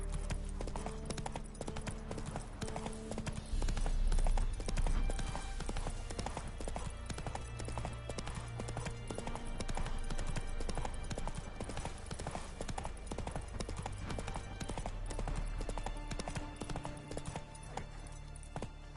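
Horse hooves gallop in a steady, fast clip-clop rhythm through Witcher 3 gameplay, loud and continuous, with a rider urging the horse on under the game's ambient sound.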